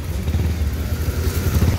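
A motorcycle idles and rumbles nearby on a cold winter night outside, a steady low engine drone that continues throughout without talk.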